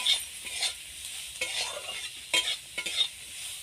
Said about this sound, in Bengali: পরিমাণ মতো নুন দিয়ে দেব অল্প পরিমাণে হলুদ গুঁড়ো দিয়ে ভালো করে ভেজে নেব